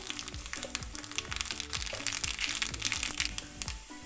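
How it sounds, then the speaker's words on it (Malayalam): Mustard seeds spluttering in hot coconut oil for a Kerala sadya beetroot pachadi, with a steady run of sharp crackling pops under continuous background music. "കടുക് പൊട്ടി വന്നിട്ടുണ്ട്"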